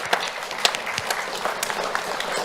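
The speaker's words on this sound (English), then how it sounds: "So please give them a round of applause." Audience at a school Do the Right Thing awards ceremony applauds parents, grandparents and teachers, a moderate spread of clapping with scattered distinct hand claps over a continuous crowd noise.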